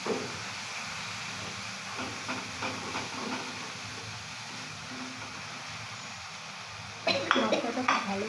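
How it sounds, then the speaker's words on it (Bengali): Spice paste of turmeric and Kashmiri chilli powder frying in a pan, a steady soft hiss throughout with a brief louder burst of sizzling and clatter near the end. "মশলাটা খুব ভালোভাবে কষা হচ্ছে"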